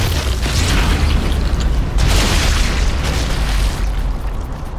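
Explosive telemines go off in the World War II sniper game Sniper Elite: Resistance, giving loud, dense rumbling booms that roll continuously with a heavy low end and bursts of debris noise.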